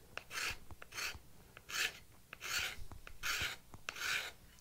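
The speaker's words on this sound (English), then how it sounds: "Love these tiny little shavings you get with a card scraper." A card scraper is drawn across wood in six or so steady rasping strokes, each a short scratchy swipe, close and moderately quiet, with no talking.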